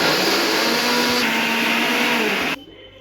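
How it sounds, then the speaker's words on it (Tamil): Mixer grinder blending onions into paste: a loud, steady high-pitched motor whir running close by, then abruptly cutting off near the end, leaving quiet room tone. "வெங்காயம் வந்து இப்படி அரைச்சிக்கணும்"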